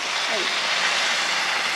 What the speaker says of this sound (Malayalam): നല്ല തിളച്ച വെള്ളമാണ് ഒഴിക്കുന്നത്